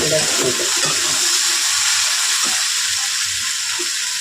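Spiny gourd frying in hot oil, a steady close sizzle and crackle filling the whole span, with a few soft stirring knocks underneath.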